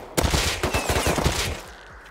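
Automatic gunfire in the survival game Rust: a rapid burst of about a dozen loud, sharp shots in quick succession that then trails off.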